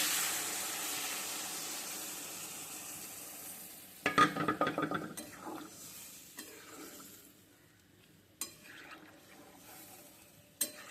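Water goes into a hot pan of fish curry. A soft hiss fades away, then come a few quick bursts of stirring and scraping with scattered small knocks, all faint and fairly close.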